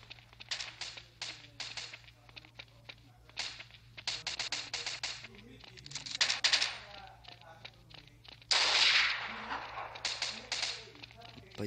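Rapid bursts of rifle fire from the video game Kuboom 3D crackle in clusters, some loud and close, with a steady low hum underneath.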